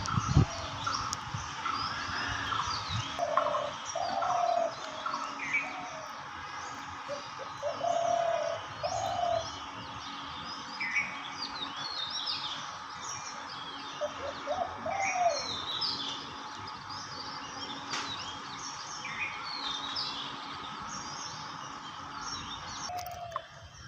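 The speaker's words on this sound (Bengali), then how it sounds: "শিকারি পাখি অনেক দিন পর গাছে তুলছি। তার ডাক দেখেন, মাথা খারাপ করা ডাক।" A hunting decoy bird perched in a tree repeats a deep, low cooing call again and again over a steady outdoor background, with other birds chirping faintly around it, moderately distant.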